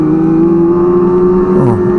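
A loud motorcycle engine drones steadily up close, then its pitch sweeps down as a motorbike passes by on a street in Manggarai, the roar dominating throughout.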